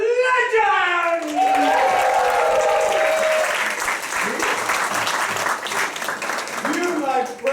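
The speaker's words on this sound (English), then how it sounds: "Give a round of applause to the heroes of legend!" Audience at an improvised Dungeons & Dragons theater show breaking into sustained loud applause, with someone speaking over the opening moments before the clapping carries on alone.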